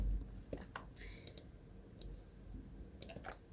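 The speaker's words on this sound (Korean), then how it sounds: "오른쪽 마우스 클릭해서 그룹을 할 겁니다" A computer mouse clicks a few times while someone works through pivot table grouping in spreadsheet software, the sharp short clicks sparse and fairly close with no talk.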